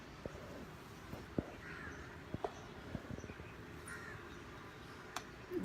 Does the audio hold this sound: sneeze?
no